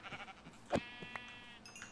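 Video game sheep bleating in Minecraft, a few short faint bleats with one sharper hit partway through, quiet and clipped.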